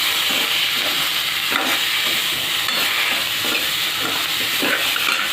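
Potato and capsicum bhaji sizzles loudly in a hot pan as the capsicum goes in, a steady close frying hiss with light stirring throughout and no talking.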